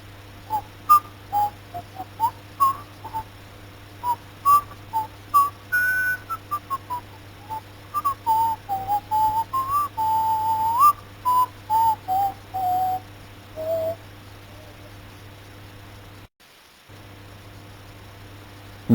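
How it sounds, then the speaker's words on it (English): A person whistles a wandering melody in a series of short, clear notes and phrases near the microphone, over a low steady electrical hum, with a brief dropout near the end. "okay, I'll whistle as usual."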